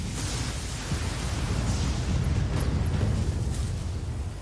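Mech weapons fire in a BattleTech battle, producing a continuous deep rumbling barrage of blasts and explosions that stays loud and dense throughout, with no talking.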